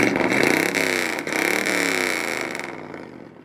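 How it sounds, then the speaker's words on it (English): Gas engine of an old Ford farm truck fitted with glass-pack exhausts, revving hard for a few seconds: a loud, close, rising then fading rumble heard on its own. "this is the best sounding gas motor I've ever heard on a farm truck"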